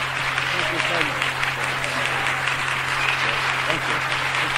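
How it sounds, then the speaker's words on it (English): An audience claps for Reverend Hashimoto in a dense, steady wash of applause that fills the whole stretch, with voices mixed in and a low electrical hum beneath. "I would like just once more for us all to give a great cheer and a clap to Reverend Hashimoto"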